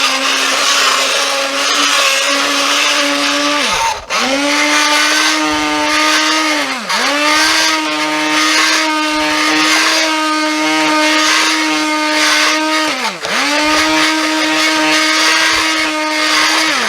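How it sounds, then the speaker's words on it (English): An immersion blender whirs through tomatoes in a pot on a stove, a loud, steady motor drone that dips briefly three times as the blade is lifted or shifted, then resumes, with no talk. "let's take the immersion blender to these tomatoes"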